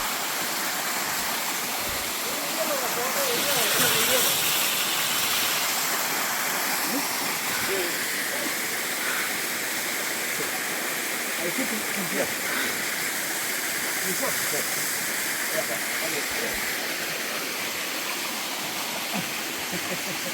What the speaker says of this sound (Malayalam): കൊടുങ്കാട്ടിന് നടുക്കുള്ള വെള്ളച്ചാട്ടം.